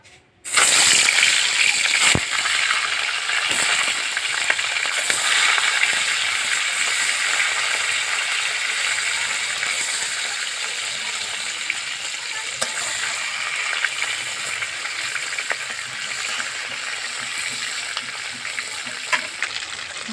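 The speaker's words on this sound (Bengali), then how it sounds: "মাছগুলো ভেজে নেব।" Gagra fish fry in hot mustard oil in a wok, giving a loud, continuous close-up sizzle with crackling spatters that hold steady throughout and fade slightly toward the end.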